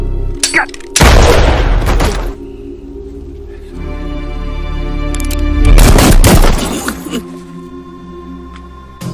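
Loud gunshots boom out in two bursts, a cluster near the start and another around the middle, with a tense lull and some speech between them.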